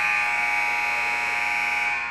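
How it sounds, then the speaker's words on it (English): Electronic buzzer sounding at a women's volleyball game, a single sustained, steady tone held for about two seconds and fading slightly at the end, with no talk over it. "I'll be interrupted by a buzzer in just a second."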